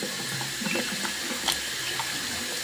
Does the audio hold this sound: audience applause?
no